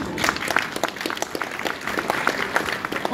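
An audience claps at a convention talk about The Walking Dead ride, a steady, dense wash of many hands with scattered sharper claps running the whole time at even loudness.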